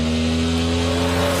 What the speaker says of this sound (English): Roger really working the wheel off that launch